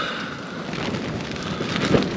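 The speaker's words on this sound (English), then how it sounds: "It's raining." Rain falls on a windy, wet day in the UK, a steady hiss of drops with gusty wind noise, moderately loud and continuous, with no voices.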